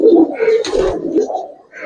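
Big Giribaz pigeons coo in a loft, giving a few low, throaty rolling calls up close, with brief human sounds mixed in.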